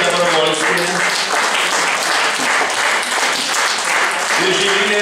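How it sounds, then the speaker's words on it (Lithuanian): Steady, loud audience applause at a poetry almanac launch, a continuous roar of many hands clapping, with a voice speaking over it near the start and end. "Aplodismentai."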